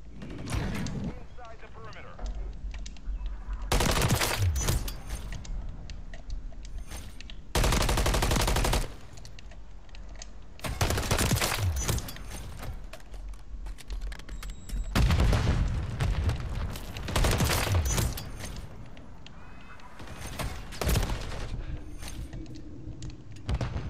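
Automatic gunfire from a gun in a video game rips out in several loud, sustained bursts separated by quieter stretches, with a voice talking in between.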